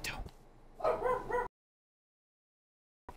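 A small dog yapping indoors, a quick burst of sharp high yaps close by, followed by silence and a brief sound at the end.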